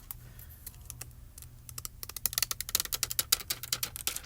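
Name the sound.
peeling adhesive bottom backing off a foil sheet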